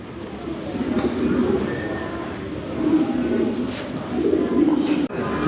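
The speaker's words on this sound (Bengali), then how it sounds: "ভালো কোয়ালিটি কবুতর" Pigeons coo in low, rolling murmurs, several overlapping calls close by over a steady background hum.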